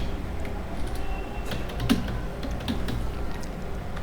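Rapid typing on a computer keyboard, a string of quick close clicks entering a localhost address, with a couple of slightly louder key presses mid-way.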